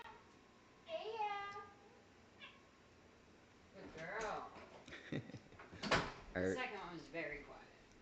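A pet cat gives a couple of short meow-like calls, coaxed as a trick before going down to the basement, mixed with nearby human voices and a sharp knock or drawer-like bump.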